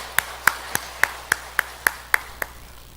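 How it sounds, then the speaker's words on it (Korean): A church congregation claps in unison for God, about ten crisp, evenly spaced claps at a steady brisk rhythm, moderately loud against a quiet room. "하나님께 영광의 박수를 보내겠습니다."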